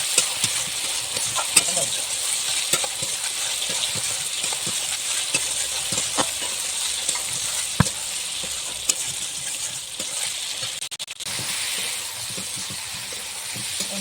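Eggplant and fried potatoes sizzle steadily in a hot pan while being stirred, with a constant bright hiss and occasional scraping clicks of the spatula, close and continuous throughout.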